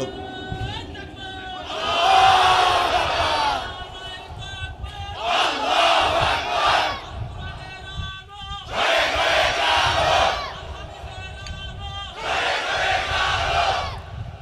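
A large crowd at an Islamic sermon gathering in Cumilla roars back in unison, with four loud, separate chanted shouts answering a leader's call and brief pauses between them.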